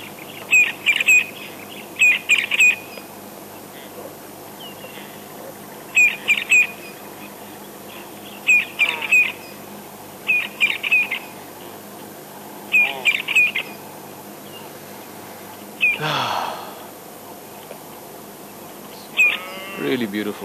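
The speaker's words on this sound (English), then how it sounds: "Quite a little bit of bird activity as well. Some starlings and doves." Morning birdsong from starlings and doves sounds in bursts of bright chirps every few seconds over a low steady ambience, with one louder sweeping call near the end.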